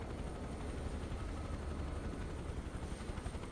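A helicopter flies nearby in a flight simulator, its steady rotor and engine roar filling the sound continuously, loud and close, with no talking.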